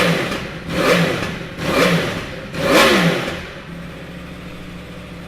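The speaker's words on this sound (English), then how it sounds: "We'll give it a start so you can hear it." A 2016 Yamaha R1 ABS sport motorcycle with 5187 miles revs in three loud, rising bursts over a running engine, then settles back to a steady idle, close by and with no talking.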